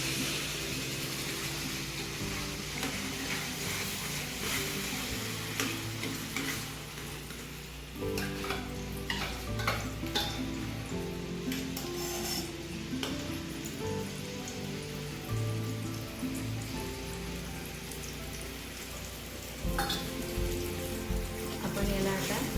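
Mango pulp cooks down in a pan for barfi, giving a continuous soft sizzle and bubbling crackle close by while a utensil scrapes and stirs it now and then, with no talking.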